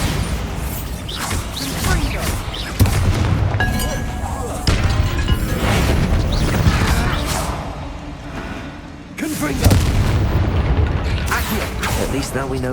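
In the Hogwarts Legacy video game, a Bombarda spell sets off heavy booming blasts with crashing debris, repeated as loud bursts among game sounds, with a character's voice heard in between.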